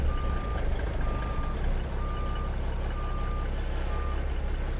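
Truck reversing alarm in American Truck Simulator, a Cummins 855-powered W900 backing a trailer: steady evenly spaced beeps, about five over a few seconds, clear over a constant low engine rumble.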